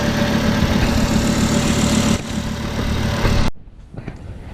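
A Volvo XC70 engine idles steadily just after a power steering pump install, a loud, close, even hum that stops abruptly near the end, leaving faint noise.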